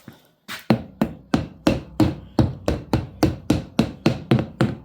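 A hammer strikes a Farmall 650 tractor tire about fourteen times in a steady, even rhythm, each blow sharp and close with a short ringing decay.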